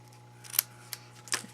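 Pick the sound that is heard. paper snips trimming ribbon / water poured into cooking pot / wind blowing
paper snips trimming ribbon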